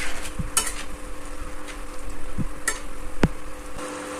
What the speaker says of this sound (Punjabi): ਇੱਕ ਚਮਚ ਹਲਦੀ ਮਸਾਲਿਆਂ ਨੂੰ 2 ਤੋਂ 3 ਮਿੰਟ ਲਈ ਚੰਗੀ ਤਰ੍ਹਾਂ ਭੁੰਨਾਂਗੇ